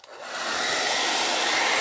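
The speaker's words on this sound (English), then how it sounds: "I'm going to take the blow dryer to it." A hair dryer blowing over a watercolor painting starts up and settles into a steady, loud, close whoosh that holds without a break, with no talk.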